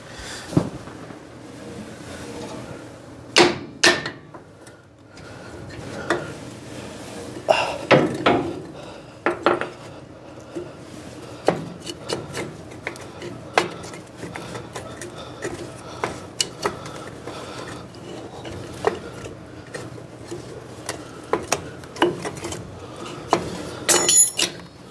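Scattered sharp knocks of a metal hammer on wood ring out at irregular intervals, some louder and closer than others, over a low background rumble, during brake repair on a 1964 Chevy C10 truck.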